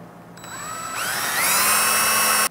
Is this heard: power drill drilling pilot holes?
yes